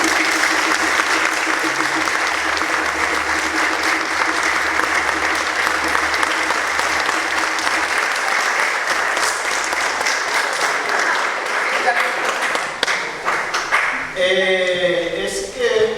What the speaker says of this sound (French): je demande à l'Assemblée de vous applaudir